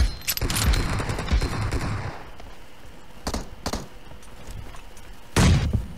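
Rifle gunfire in PUBG, a dense burst of rapid shots at the start followed by a softer stretch, then single sharp cracks and a final loud burst, with no talking.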